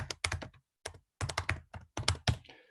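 Computer keyboard typing in quick bursts of key clicks, several clustered runs separated by short pauses, close and clear with no voice.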